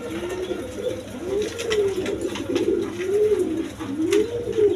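Several pigeons, including Rajgolla and other breeds, coo in a steady rolling rhythm, each soft throaty call swelling and falling about once a second, fairly close against a faint background hum.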